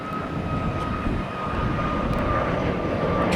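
A Boeing 737 Max 8 jet airliner passes at an airport, a continuous broad engine roar with a steady whine, loud and close with no talking.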